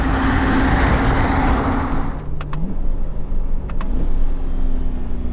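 A Chevrolet C8 Corvette Stingray Z51 with an automatic transmission drones loudly under load, then lifts off and lets out a few short, sharp exhaust burbles and pops near the end.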